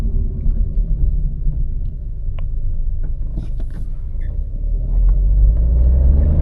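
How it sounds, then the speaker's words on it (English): A Volkswagen Taigun 1.0 TSI turbo petrol automatic pulling ahead, its engine rumble and road noise steady from inside, then swelling louder near the end as revs climb past the turbo lag. "after 2000 RPM, the turbo kicks in."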